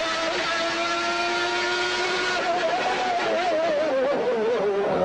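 Ayrton Senna's Formula 1 car screams through an onboard qualifying lap in Adelaide, its high engine pitch holding steady then rising and wavering through gear changes, loud and continuous with wind noise.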